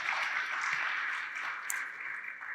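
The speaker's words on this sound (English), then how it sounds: "Clap it up." An audience at an investor panel session applauds with steady, dense clapping that holds throughout before thinning slightly at the end.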